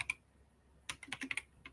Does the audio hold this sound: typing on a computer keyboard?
yes